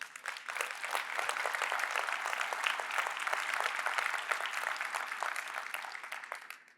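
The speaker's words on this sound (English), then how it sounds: "Please applaud it." Sustained audience applause at a sponsor's address to a conference crowd on coal-free electricity, dense steady clapping that builds quickly, holds for several seconds and tapers at the end, with no talking over it.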